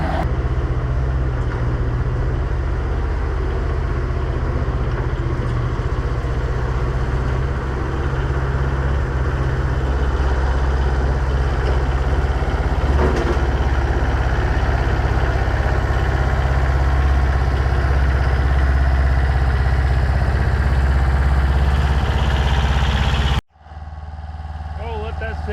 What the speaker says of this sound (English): We'll run it about half throttle and just let it set for a little bit.